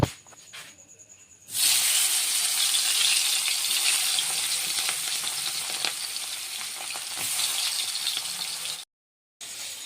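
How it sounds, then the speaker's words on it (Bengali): Bami fish frying in a pan for an Assamese curry bursts into a loud, dense sizzle after a quiet start, holds steady with faint crackles, then cuts out briefly and resumes. "মাছটা এখানে ভেজে নেই"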